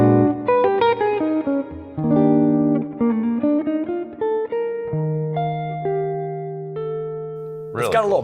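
Charvel Pro-Mod So-Cal electric guitar played through the neck humbucker with the volume rolled back slightly, giving a warm, jazzy tone with a little bark: a run of clean chords and single notes, the last one ringing out and then a short scrape at the end.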